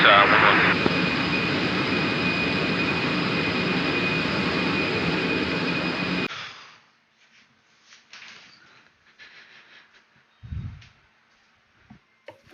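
Military aircraft engine in a flight simulator game shutting down on the parking ramp, a loud steady jet whine that cuts off abruptly midway, leaving near silence with faint clicks and a short low thump.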